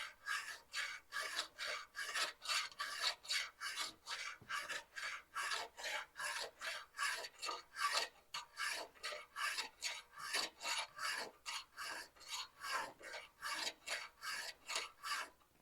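Metal is filed by hand, a bright rasping stroke repeated in an even back-and-forth rhythm of roughly two strokes per second, loud and close with no talking.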